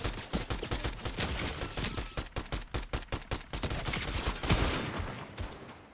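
Dense, rapid gunfire from the Fortnite video game rattles on without pause, a loud fusillade of overlapping shots and bursts with a heavy, close feel.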